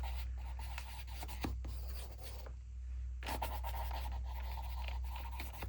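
Writing by hand makes quiet, close scratching strokes of a pen on paper, coming in short bursts with brief pauses between words.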